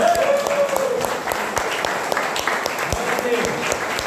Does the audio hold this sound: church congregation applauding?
yes